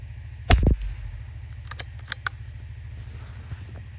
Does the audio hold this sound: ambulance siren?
no